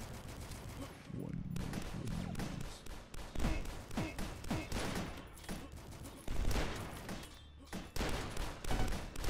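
Rapid bursts of first-person-shooter gunfire in the retro PC game Dusk, loud and dense, with repeated shots and impacts across the whole stretch and brief gaps between volleys, under a player's voice.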